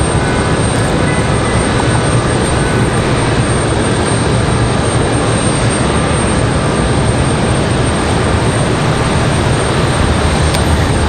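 Boeing 737 jet airliner at Raleigh-Durham International Airport, a loud, steady broadband engine roar that stays constant and fills the whole stretch with no speech over it.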